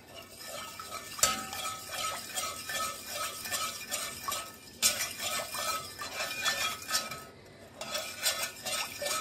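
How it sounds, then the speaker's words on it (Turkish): Sugar is stirred in a pot with a spoon until it dissolves, a repeated scraping swish in bursts with light metallic clinks, close and clear, pausing briefly between rounds of stirring. "Daha sonra şekerimizi eriyene kadar karıştırıyoruz."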